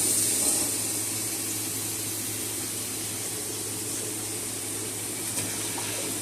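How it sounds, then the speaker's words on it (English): A tap runs steadily into a sink or bowl as raw chicken is added to water in a kitchen, a continuous even splashing hiss with no talk. "I'll just add it into some water."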